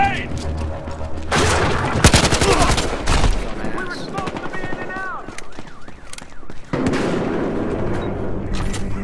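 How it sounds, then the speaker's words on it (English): Gunfire and explosions from multiplayer combat in the video game Battlefield Hardline, with bursts of loud rapid shots and a heavy blast amid dense battle noise, while players shout over the action. "Grenade!"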